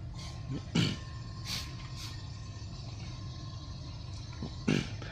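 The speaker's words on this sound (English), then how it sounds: "that noise is just me clearing my throat" Two short, rough throat clears, one early and one near the end, over a steady low background hum.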